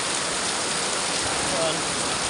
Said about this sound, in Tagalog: Sobrang lakas ng ulan eh.